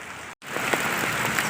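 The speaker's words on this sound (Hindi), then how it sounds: "बहुत जोर से बारिश हो रही है।" Heavy rain falls as a dense, steady hiss, with a momentary cut-out near the start.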